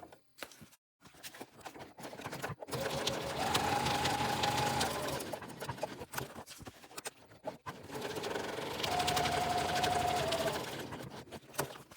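A sewing machine quilts a pouch with top stitching, running in two long steady bursts of rapid needle chatter separated by a pause with small handling noises.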